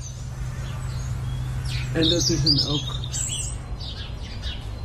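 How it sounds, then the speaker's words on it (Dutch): A European robin sings in winter in a recorded fragment: a short, high, thin song phrase mid-clip over a steady low hum, with a brief spoken remark nearby. "ik heb zowel een geluidsfragmentje van een winterroodborst"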